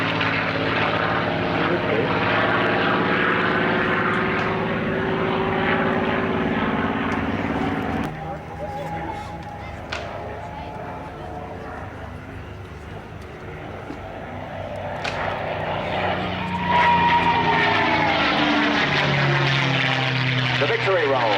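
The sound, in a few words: Mustang propeller aircraft flying past with whining engine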